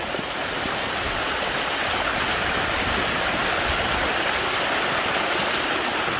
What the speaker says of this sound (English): Let's get some freezing cold glacier water.